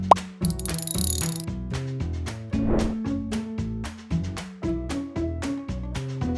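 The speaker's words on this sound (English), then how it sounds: "Finish off the tightening with a Torx wrench." A Torx wrench ratchets as it tightens a single-use expansion screw on a Peugeot 206 1.4 HDI damper pulley, in close, repeated bursts of clicking with short pauses and a clunk between strokes.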